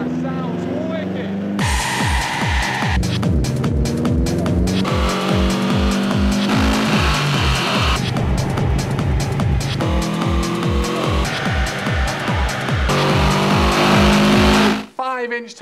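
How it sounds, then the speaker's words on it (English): A loud boxer engine car on a dyno revs hard and steadily through 5-inch tailpipes, its throaty burble pulsing rhythmically, with voices shouting over it before the noise cuts off abruptly. "5-inch tailpipes and boxer engines make a wicked noise"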